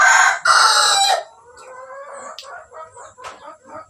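A rooster crows loudly up close at 5:30 in the morning in two long calls, followed by softer scattered clucks and bird chatter.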